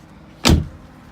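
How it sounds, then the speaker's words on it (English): A cabin door on a 2018 Grady-White Freedom 307 boat shuts with one short, solid thud that fades quickly against a quiet background. "There is a door."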